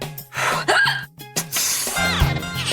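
A person hiccups repeatedly in a domestic drama scene, several short sharp vocal jerks in quick succession, close and fairly loud, with breathy gasps between them.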